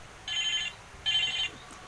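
A phone ringing unanswered: two clear electronic ring bursts with a short gap between them, fairly close and with no talking over them.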